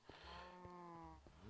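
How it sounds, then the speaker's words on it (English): Cows moo in Minecraft, a few drawn-out low calls in steady succession with a faint background hum, no talking. "Yeah, I have some cows."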